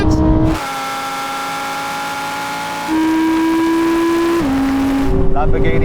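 A Lamborghini Huracan accelerates hard in a drag race against an Audi R8: a loud, close engine drone climbs steadily through the gears, with a sharp shift just after the start and two more drops in pitch as it keeps pulling.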